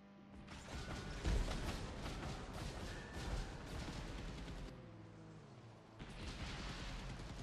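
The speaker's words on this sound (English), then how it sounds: "Missiles are gonna kill me." Missile explosions and heavy mechanical gunfire from vehicle combat in the video game Diesel Guns, a dense, loud, continuous barrage with a sharp blast near the start and another burst toward the end.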